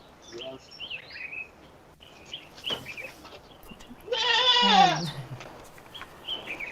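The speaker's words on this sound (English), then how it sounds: "My goats will not go to the bush." Goats on a small Ugandan farm let out one loud, wavering bleat up close, with fainter bleats and bird chirps scattered around it in a quiet outdoor setting.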